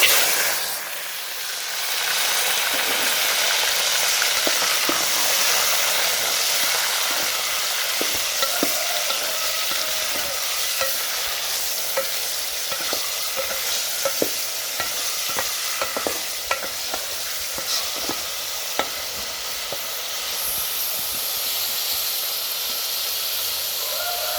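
Hot cooking oil sizzles steadily in a village kitchen where goat meat and arrowroot are being cooked, a constant bright hiss with scattered crackles and pops, close and alone without talk.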